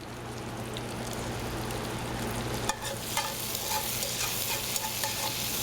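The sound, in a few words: food sizzling in hot pan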